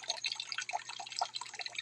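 Water dripping from household taps late at night, a steady patter of small drips and splashes, close and fairly quiet, with a faint low hum underneath and no voices.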